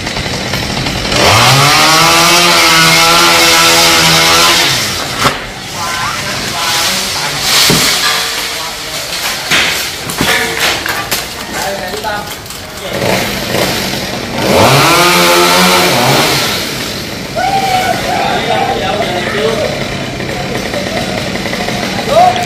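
A loud chainsaw revs in long bursts cutting tree branches, rising and falling in pitch as it cuts, with pauses and a brief stretch of quieter mechanical noise between runs.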